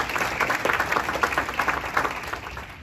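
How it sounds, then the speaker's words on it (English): An audience at an equality awards ceremony gives a round of applause, a continuous, fairly close wash of clapping that holds steady and then tapers slightly at the end. "let's give her a round of applause"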